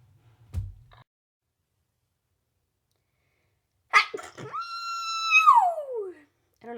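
A voice imitates an exaggerated sneeze, a sharp burst followed by a long squealing tone that slides downward, after a brief soft noise and a pause.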